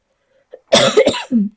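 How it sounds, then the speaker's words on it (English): One person coughs nearby, a short harsh burst of two or three coughs followed by a brief final hack. "Sorry for the coughing."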